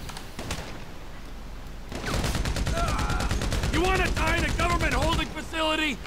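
Gunfire in a Grand Theft Auto V shootout: a few scattered shots, then a long rapid burst of automatic fire with voices shouting over it, before a short pause and one last burst.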